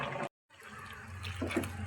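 Water is poured into a cooking pot while chicken sukka is being made, a short splashing gush that stops briefly and then resumes as a steady close stream, with no talking.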